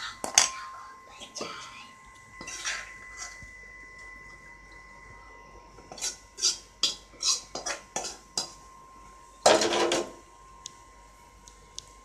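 Utensils scrape and clink against metal vessels while Kanava fish thokku is moved into another pot, a run of short close clatters with a louder burst near the end and a steady hum underneath.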